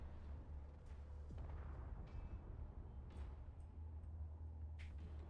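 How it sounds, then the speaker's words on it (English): Fireworks fired from a ship in the space combat game Space Engineers: faint, scattered pops and crackles, with a brief whistling streak, over a steady low hum. "What's with the fireworks?"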